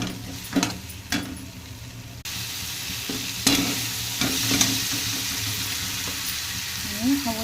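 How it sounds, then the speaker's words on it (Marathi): Sandge, lentil dumplings, are stirred through roasted masala in a pan for a spicy bhaji, with repeated scraping spoon strokes over a soft, steady sizzle and a few sharper clacks. "सांडगे एकत्र करून घेऊ."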